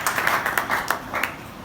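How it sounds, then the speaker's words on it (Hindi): Church congregation applauding in a sermon hall, a short burst of brisk, fairly close clapping with uneven rhythmic peaks. "अब बादशाह के लिए जोरदार तालियां बजाइए।"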